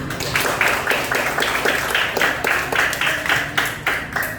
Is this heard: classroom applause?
yes